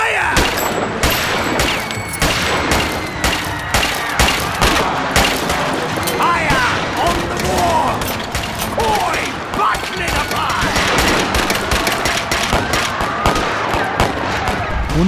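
Machine-gun fire in a virtual reality show recreating a historical massacre at Hussainiwala, Ferozepur, Punjab: dense, loud rapid bursts of gunshots crackle continuously, with a voice heard intermittently beneath the volleys.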